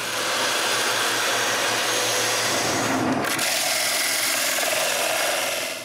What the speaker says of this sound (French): je commence par sabler l'excès de colle à l'extérieur